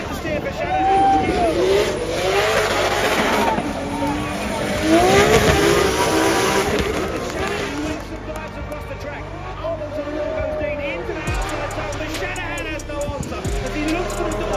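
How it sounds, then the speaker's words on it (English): Race cars drifting and understeering in the DriftMasters video game, with engines revving and wailing continuously, tires skidding and shifting pitches, and commentators talking over the top. "Big understeer for Shanahan"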